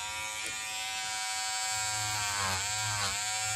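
A Peggy Stitch Eraser electric seam remover running on quilt fabric, a steady high-pitched motor buzz that wavers slightly in pitch as it works, alone and close.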